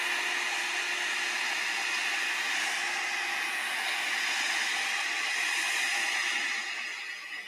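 A heat dryer blowing over alcohol inks on a gelli plate, a steady close whirring hiss that holds evenly and then eases off at the end.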